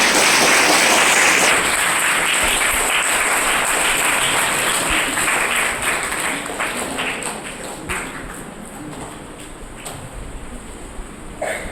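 Audience at a school science exhibition gives a warm welcoming round of applause to an arriving guest, sustained dense clapping that gradually softens toward the end.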